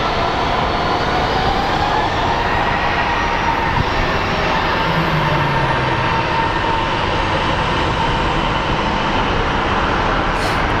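Airliner inbound from Fresno at Phoenix Sky Harbor International Airport, a steady broadband engine roar with a faint whine, holding constant and fairly loud through the whole stretch without voices.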